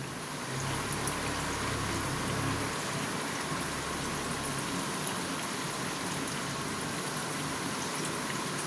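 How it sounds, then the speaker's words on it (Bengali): Bread-and-chicken chops fry in oil over a low flame, giving a steady, dense crackling sizzle that holds evenly throughout, close and fairly loud, with no voices. "এটাকে আমি সিম করে করে ভাজছি।"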